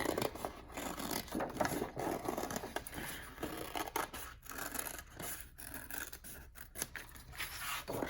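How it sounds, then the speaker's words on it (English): Scissors snipping through paper to cut out snowman circles for a craft, close crisp repeated cuts and rustling with an uneven rhythm. "So the next step is going to be to cut out the circles of my snowman."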